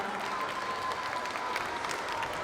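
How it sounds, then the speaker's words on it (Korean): Audience applause at the opening ceremony of the 2024 Boumseom Namhae education community happiness festival, a steady wash of clapping from a crowd that holds even throughout. "여러분들 박수 한번 보내주시면 감사하겠습니다"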